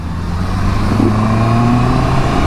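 A Honda CB650R motorcycle engine drones loudly and steadily during a test ride on suburban roads, a close, continuous mid-pitched hum mixed with wind rush.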